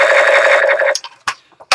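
A sustained electronic buzzing tone from a toy submachine gun with a suppressor, followed by a few short sharp bursts and clicks with gaps between them.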